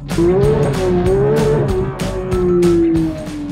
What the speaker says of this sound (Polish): Dobrze mam mikrofon, bo jest strasznie głośny ten samochód.